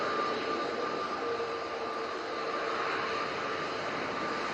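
Emirates A380 airliner on landing, a steady distant jet roar with a faint whine and broad hiss, continuous and fairly quiet, no voices.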